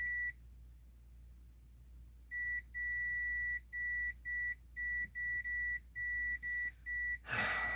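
Continuity beeps from a multimeter sound while probing the electronics of a Symphonic VR-701, a string of about ten short, clean, even tones after a quiet pause, ending in a brief rustle.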